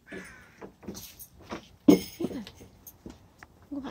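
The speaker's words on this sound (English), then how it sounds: "Listen to the birds." Birds call outdoors in the morning, a run of short, separate chirps and caws at moderate distance with small clicks and knocks between them.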